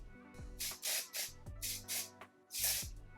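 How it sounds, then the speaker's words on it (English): Dry shampoo sprayed onto hair from an aerosol can in five quick hissing bursts, close and fairly loud, each spray with a soft click where the nozzle is pressed. "I'm just gonna take a little bit of dry shampoo real quick"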